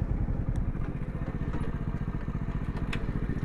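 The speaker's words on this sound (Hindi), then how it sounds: "तो अभी पहले अपनी बाइक पार्क करते हैं" A modified Yamaha MT15 motorcycle engine idling while being parked, with a loud, close, rapid chugging pulse and occasional clicks and clatter, steady throughout with no talk.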